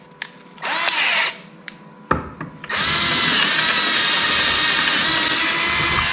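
A power drill whines at high speed boring through material, starting with a couple of short bursts and brief stops, then running loud and continuous close up to the end.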